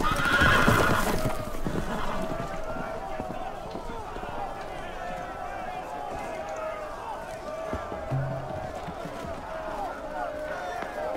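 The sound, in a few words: horses neighing and galloping in a video game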